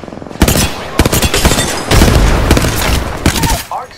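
Gunfire in the video game Apex Legends: rapid automatic bursts and single loud shots fire in dense volleys, with brief gaps and a short tail-off near the end.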